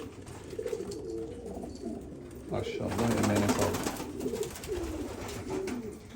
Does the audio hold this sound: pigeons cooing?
yes